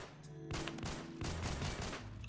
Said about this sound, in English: You just poke them with pistol bullets for a while.